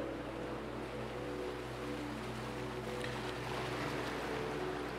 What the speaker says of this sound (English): I want you to listen to the crashing of the waves